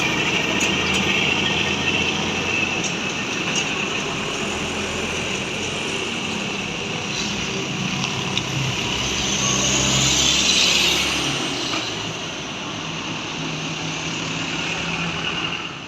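A row of brightly painted trucks passes in town, heard as a continuous loud rumble of engines and tyres with a whining swell as one vehicle goes by, no talk over it.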